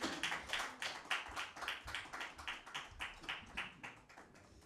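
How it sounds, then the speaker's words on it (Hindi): An audience at a Christmas Bible quiz claps in unison for a school's second-place finish, a rhythmic, evenly spaced beat of synchronized claps, about three per second, slowly easing in loudness. "आप सबकी भरपूर तालियों में"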